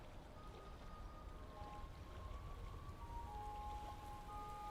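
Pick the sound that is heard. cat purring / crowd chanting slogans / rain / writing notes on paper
rain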